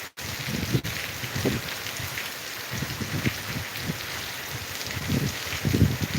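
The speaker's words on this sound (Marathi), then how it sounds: "हा पहा कसा पाऊस चालू आहे एकदम कंटिन्यू असा पाऊस चालू आहे" Heavy, continuous rain pours down in Latur, a dense steady hiss of drops on surfaces with a few louder splashing patches.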